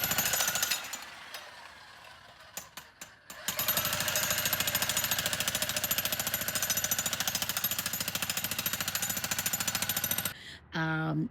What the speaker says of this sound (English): the jackhammer made quick work of it